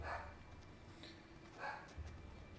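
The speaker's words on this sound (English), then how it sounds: "Well, I gotta see what this dog wants." A dog in the horror game Little Hope gives a couple of faint whimpers and soft barks, distant and muffled over a quiet ambient hum.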